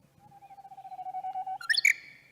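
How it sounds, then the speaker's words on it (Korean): A recorded Korean bush warbler song plays alone: a long rising whistle held for over a second, then a quick bright burst of warbling notes to finish, clear and close. "휘파람 새입니다"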